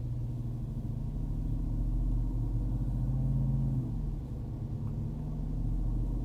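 Deep, steady rumble of a 2022 Jeep Wrangler Unlimited Rubicon 392 Hemi V8 on 35-inch tires while driving on the road, constant and close, with a brief dip and swell in the middle, no voices.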